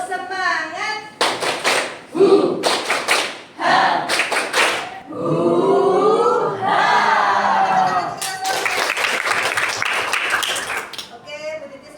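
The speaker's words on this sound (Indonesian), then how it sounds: "Tepuk semangat saja ya, biar semangat." A class group performs the Indonesian 'tepuk semangat' rhythmic clapping, bursts of sharp, patterned claps alternating with loud chanted group voices, close and energetic.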